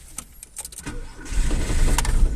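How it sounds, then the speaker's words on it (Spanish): A car engine with a faulty engine coolant temperature sensor idles roughly and unsteadily as if about to stall, with clicks and rattles early on before the low engine rumble swells louder up close. "Si observan, está inestable el ralentí. Se quiere apagar el carro."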